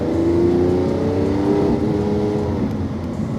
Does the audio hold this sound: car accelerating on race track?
yes